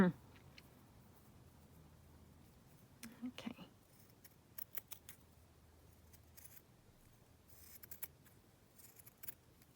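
Scissors trim fabric for fold-and-tuck pockets in short, quiet bursts of snipping, faint and close, with soft handling noise between cuts.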